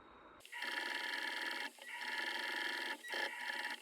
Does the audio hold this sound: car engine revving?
no